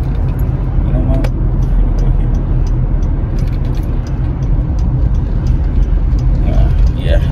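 Steady, loud road noise from inside a car moving through heavy traffic: a constant low engine and tire rumble with passing vehicles, with no talk over it.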